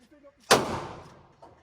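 A single loud gunshot cracks close by at a gun range, followed by a long decaying echo, with a faint thump after and quiet voices around it.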